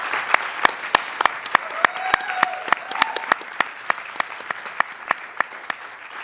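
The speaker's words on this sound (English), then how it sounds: "Let's give a round of applause for the candidates." Audience applause after a student government presidential debate at Iowa State, a steady patter of clapping hands with sharp individual claps standing out near the microphone, sustained for several seconds without talk.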